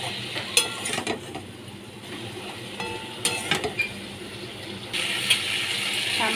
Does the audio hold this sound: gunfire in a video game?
no